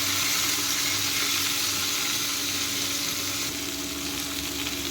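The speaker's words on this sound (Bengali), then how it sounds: "কষিয়ে নেব, ভালো করে ভেজে নেব।" Carrots, beans and drumstick pieces fry in a pan for a healthy sukto, a steady close, loud sizzle with a faint low hum beneath and no talking.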